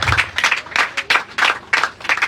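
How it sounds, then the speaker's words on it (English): An audience at the Arizon Estate launch in Nigeria breaks into a short round of applause, with clapping that swells in several close, regular bursts. "give a round of applause for Zealous Group International"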